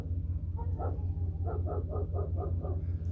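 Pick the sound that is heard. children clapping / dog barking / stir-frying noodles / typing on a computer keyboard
dog barking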